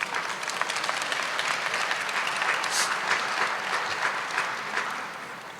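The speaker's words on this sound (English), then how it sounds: "Please give them a round of applause." A large crowd at a university commencement ceremony applauds the university choir after its performance, a sustained, dense roar of clapping that holds steady, then begins to ease toward the end.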